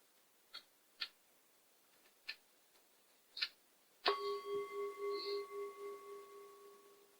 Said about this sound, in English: And then we'll begin when Catherine rings the bell.